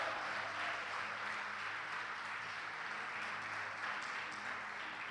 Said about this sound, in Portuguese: Se for para aplaudir Jesus, aplaude mais forte.